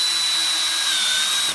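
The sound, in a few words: power drill driving screw into softwood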